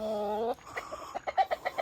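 Chickens being raised for slaughter cluck in a short burst of close, repeated calls after a sustained opening squawk, on a backyard farm.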